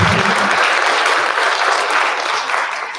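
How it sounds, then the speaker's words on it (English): Audience applause at a high school spring concert of orchestra, guitar and choir, a loud, dense burst of clapping from a crowd that stays steady and then begins to taper off at the end. "let's give Ms."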